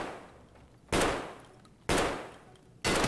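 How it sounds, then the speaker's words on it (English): Gunfire in the Escape from Tarkov video game comes as three sharp, loud shots spaced about a second apart, each decaying into a short tail over low background noise. "Someone's shooting at me."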